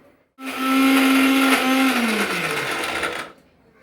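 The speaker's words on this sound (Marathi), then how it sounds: "आता ते मिक्सरमध्ये बारीक करूया" A kitchen mixer grinder grinding cashews and almonds whirs loudly and steadily for about three seconds, its motor pitch sagging downward toward the end before switching off.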